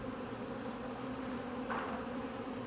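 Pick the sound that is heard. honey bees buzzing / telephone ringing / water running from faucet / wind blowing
honey bees buzzing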